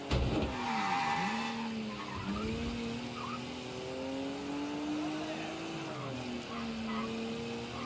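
A car in Mafia 3 slides and skids, with tyres squealing in drawn-out wavering tones over a steady engine drone, loud at first and then settling into repeated skids.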